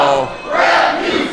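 A wrestling crowd at a Coastal Empire Wrestling event jeers and shouts at the official, a loud, dense roar of voices filling the arena without pause.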